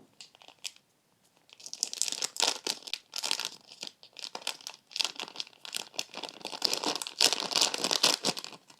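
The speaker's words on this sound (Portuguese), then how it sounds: "agora nós vamos usar um pacote de coco ralado" A plastic package of grated coconut crinkles and rustles in repeated bursts of close crackling handling, with short pauses between the bursts and no talking.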